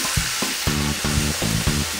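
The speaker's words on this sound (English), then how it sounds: "Let that start boiling." Orange juice sauce heats in a pan, sizzling and bubbling steadily up close with soft rhythmic popping and stirring sounds.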